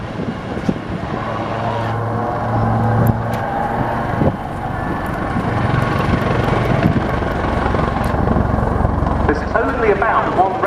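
Two Westland Wildcat helicopters fly a close formation display at an air show, their rotor thump and turbine whine forming a steady, fairly loud drone with a crowd and a commentator's voice underneath.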